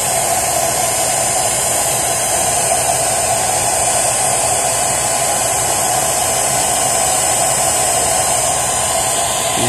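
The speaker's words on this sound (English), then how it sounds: "hit it with the blow dryer" A hair dryer runs steadily and loudly throughout, heating decals to remove them from a stretch bike, a constant whooshing hum with no pauses or talking.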